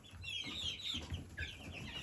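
Chickens, including a silver red splash Wyandotte, cluck and chatter in short bursts over about two seconds, fairly faint and close by, with no talking.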